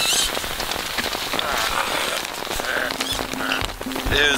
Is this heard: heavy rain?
yes